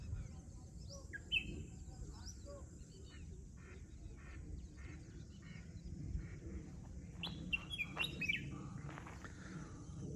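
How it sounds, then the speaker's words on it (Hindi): Birds chirp and call at the Dehrang dam backwater, scattered short, high notes and a few quacking calls, fairly faint over a low outdoor rumble. "पक्षियों का आवाज भी आपको सुनाई देंगे।"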